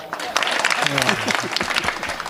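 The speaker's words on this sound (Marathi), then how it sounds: "टाळी वाजवा." An audience at a comedic kirtan performance claps in a dense burst. A voice speaks over the clapping, and it carries on steadily to the end.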